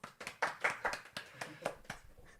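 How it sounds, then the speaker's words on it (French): Studio audience at a French TV debate clapping in a short, uneven burst of separate sharp claps that thins out and fades within a couple of seconds, with no talk over it. "On peut applaudir, franchement."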